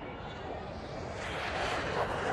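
Military airplanes pass overhead, a broad engine roar that slowly swells louder, with a voice talking over it.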